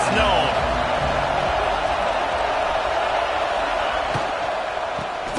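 A packed college football stadium crowd at an Ohio State versus NC State game roars in a steady, dense wash of cheering and noise, loud and sustained throughout with no break.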